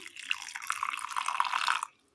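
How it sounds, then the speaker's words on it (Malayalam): Cooled boiled water poured into a mixer grinder jar with coconut and chillies makes a close, bright trickling splash for about two seconds before stopping abruptly. "തിളപ്പിച്ചാറ്റിയെടുത്ത വെള്ളം"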